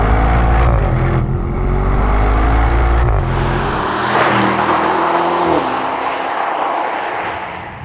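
A powerful Mercedes-AMG SL engine revs hard and loud, its pitch climbing and dropping through gear changes before easing off toward the end.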